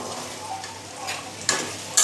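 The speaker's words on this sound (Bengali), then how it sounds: "ততক্ষণ আমি আলুটা ভাজা বসিয়ে দিই" Potatoes fry in hot oil in a wok, giving a close, even sizzle broken by a few sharp stirring scrapes and clinks.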